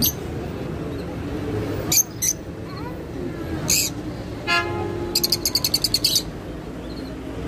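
A parrot's loud, harsh calls burst out several times over steady background noise in downtown Amman, ending in a rapid string of sharp repeated squawks.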